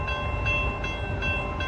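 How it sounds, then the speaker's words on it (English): An LA Metro A Line train passes through a station, a steady rumbling roll with high metallic tonal whine from the wheels and motors, loud and close with no talk. "it looks like we already have a train coming through the station"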